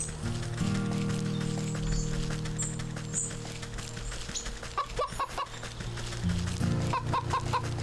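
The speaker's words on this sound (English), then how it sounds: "That made a chicken sound." A chicken clucks in a few short bursts in the video game Wytchwood, over steady background music and ambient noise.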